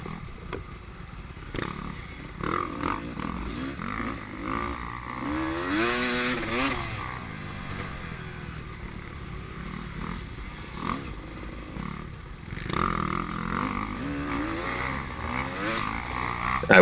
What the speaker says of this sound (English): the sound of the 2-stroke is nice to hear.